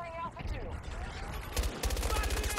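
AEK-971 rifle fire in Battlefield 2042 cracks out in rapid automatic bursts, loud and close, with a stronger rattling string near the end, over game sounds and a faint voice.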